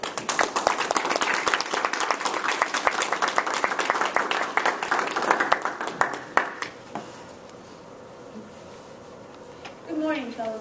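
Audience applause at a Toastmasters club meeting welcomes a speaker before a mentoring speech: dense, sustained clapping that thins out and fades, followed by a pause and then a voice beginning to talk.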